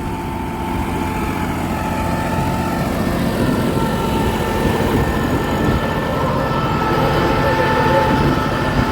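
A New Holland 5620 CRDI tractor engine runs steadily under load while driving a rotavator through soil in a field, a loud, continuous low drone with no pauses and little change in pitch.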